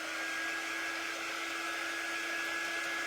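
A hair dryer blows steadily on a drying craft project, a constant broadband whoosh with a faint motor whine, continuous and fairly close with no talking.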